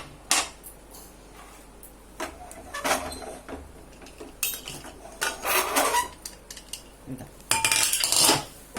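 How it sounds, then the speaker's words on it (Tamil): Pressure cooker of Karnataka-style khichdi opened after the steam is released, then stirred, with irregular metallic clanks, scrapes and spoon clinks against the pot, close and moderately loud. "கேஸ் ரிலீஸ் ஆயிடுச்சு இப்போ இதை எடுத்துட்டு ஓப்பன்"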